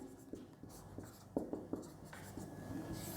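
Handwriting on paper during a trigonometry lesson, with light scratchy strokes and several sharper taps of the pen tip, close and quiet.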